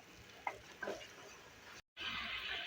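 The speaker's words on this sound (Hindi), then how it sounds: "इसको फ्राई करते हैं, देखिए इसको अच्छी तरह हम फ्राई कर लें।" Ginger garlic paste and green chili paste frying in a pot, a soft steady sizzle with a couple of stirring scrapes, brief break, then the sizzle resumes louder and continuous, no voices.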